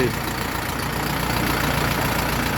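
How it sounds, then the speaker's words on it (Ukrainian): Orion JD504 cab tractor with a 50 hp KM495 engine running at a steady idle nearby, an even low diesel drone holding throughout while someone speaks over it. "Трактор на 50 кінських сил, двигун КМовський 495"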